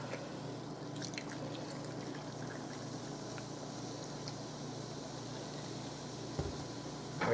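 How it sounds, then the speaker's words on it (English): Canfield's club soda pours into an Old Fashioned cocktail, a soft, steady fizzing trickle with light bubbly crackle that runs evenly and quietly, ending in a slightly louder splash. "Top it off with some club soda of your choice."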